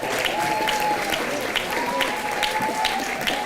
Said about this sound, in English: Please give the middle college graduates a round of applause.